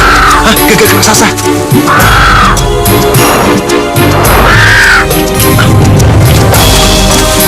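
A giant crow in a fantasy adventure setting gives several loud, harsh caws at spaced intervals, mixed with crashing impacts and a dense, loud soundtrack; no speech.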